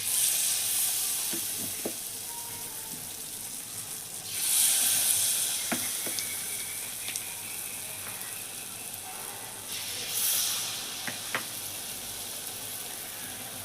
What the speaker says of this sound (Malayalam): ഈത്തപ്പഴം പൊരിക്കാനുള്ള പരിപാടിയാണ്